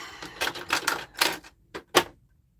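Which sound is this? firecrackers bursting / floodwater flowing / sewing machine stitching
sewing machine stitching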